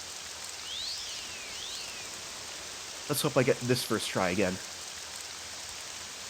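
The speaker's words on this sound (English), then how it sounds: "And it is raining." Steady rain hisses softly throughout in The Elder Scrolls III: Morrowind, a flat even wash with a couple of faint sweeping tones early on, while someone talks briefly over it.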